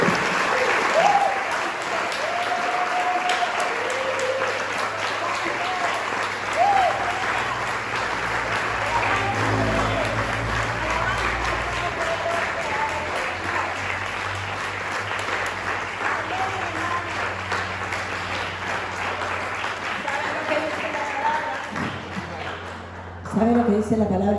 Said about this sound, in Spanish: vamos a darle un aplauso fuerte de gloria al Señor